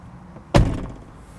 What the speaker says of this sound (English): So right now I'm gonna do the manual door handle